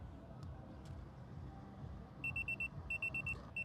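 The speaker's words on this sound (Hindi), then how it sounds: "तो आप यहाँ पे देखिए अलार्म बजने लग जाएगा डिस्प्ले में।" A car TPMS display alarm going off after a tyre pressure sensor is removed, a burst of rapid high electronic beeps in groups near the end over a quiet room background.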